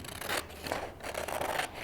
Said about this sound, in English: use your scissors and cut on this line